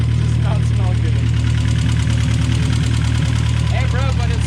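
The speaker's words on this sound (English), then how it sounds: "it starts. It's sort of idling." A cammed Mazda Miata engine idles loudly and close up, a rough, uneven lumpy rumble with a choppy beat. A voice speaks over it.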